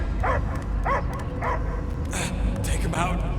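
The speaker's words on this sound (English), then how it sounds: "I hear only barking." A dog barks in the Guardians of the Galaxy video game, with a series of sharp yips and barks over steady game background noise, and a voice is heard between them.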